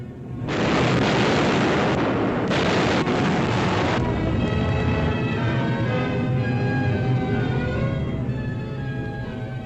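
Bombs exploding in an air raid on the naval base and fortress island of Heligoland, a loud, sustained roar of blasts with heavy booms in the first four seconds, then a long rumbling decay.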